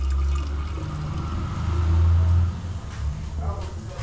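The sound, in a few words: water filling drink bottle through water filter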